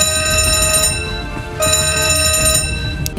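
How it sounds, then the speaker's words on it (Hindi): The general emergency alarm on the Costa Concordia cruise ship rings as a loud, continuous electronic ringing tone with a brief break midway, sounding steady and insistent throughout. "फाइनली जाकर 10:33 पर एक जनरल इमरजेंसी अलार्म राइज किया जाता है"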